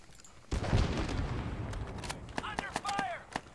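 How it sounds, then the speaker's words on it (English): Gunfire in Arma 3 S.O.G. Prairie Fire: a heavy shot opens, followed by a series of sharp, separate reports, with voices calling out among them. "Under fire! Taking fire!"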